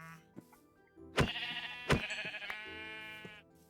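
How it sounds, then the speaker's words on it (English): Sheep in Minecraft (GregTech New Horizons modpack) give two loud bleats about a second apart, then a longer wavering bleat, over quiet game background sounds. "Oh, there's plenty of sheep over here."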